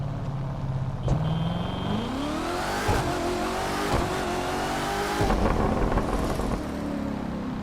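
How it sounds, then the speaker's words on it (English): A 2019 Corvette ZR1 convertible with supercharger in The Crew 2 racing game, engine revving and climbing through gears with a deep exhaust rumble, steady and prominent with brief shift drops, no talk. "Nice rumbles of the exhaust."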